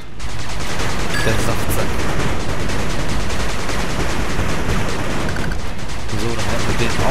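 A gun emplacement firing in the 8-Bit Armies strategy game, a loud, unbroken barrage of rapid gunfire and battle noise with someone briefly speaking over it.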